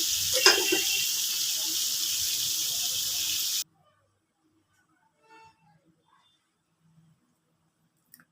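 Potatoes salted and frying in hot oil, a steady bright sizzle running for several seconds up close, then cutting off abruptly into near silence with a few faint clinks.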